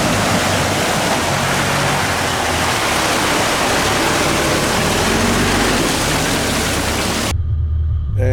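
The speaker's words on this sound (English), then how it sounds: "there's certainly a fair bit of flow in the Crooked River" The Crooked River rushing past nearby with a fair bit of flow, a loud, dense, continuous roar of moving water that cuts out abruptly near the end.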